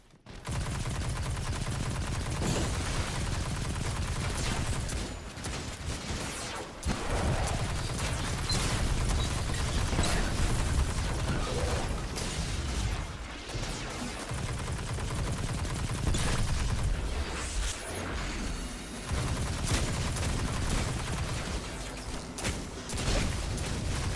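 Dense, continuous gunfire from the Hardlight exotic auto rifle in Destiny 2, rapid shots with bouncing bullets running almost unbroken for the whole stretch, loud and busy with brief pauses between bursts.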